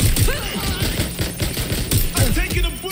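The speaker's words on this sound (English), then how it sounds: "Shots fired!" Machine gun fire cracks in uneven bursts through a Watch Dogs Legion firefight, loud and close, with shouting voices mixed in.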